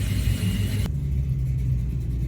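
Loud Infiniti Q45 engine droning at close range, a steady deep rumble with a sudden drop in higher road and wind noise partway through.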